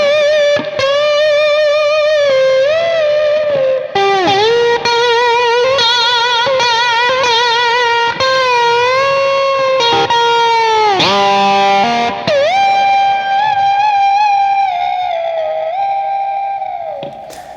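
An electric guitar plays a lick through high gain and big reverb, with sustained, bending lead notes and slides that ring continuously and loudly throughout.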